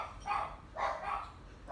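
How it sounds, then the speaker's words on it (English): A dog barks faintly a few times indoors during a yoga class, two or three soft yips or woofs heard from a distance against a quiet room. "That's my dog."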